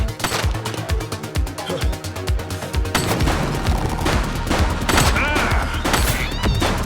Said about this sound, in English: Shots fired! He's running!